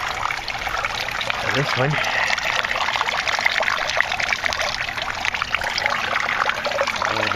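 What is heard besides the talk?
water trickling in an aquaponics system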